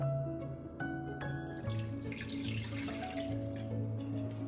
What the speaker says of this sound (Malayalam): ഇനി നമുക്ക് ആവശ്യത്തിന് വെള്ളം ഒഴിച്ചു കൊടുക്കാം